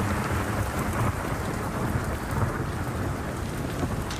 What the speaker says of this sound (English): Lightning, thunder, and of course, rain.